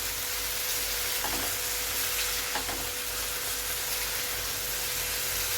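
Onion and tomato frying in a pan for paneer butter masala, a steady broadband sizzle holding level throughout with a couple of faint stirring scrapes, no voices.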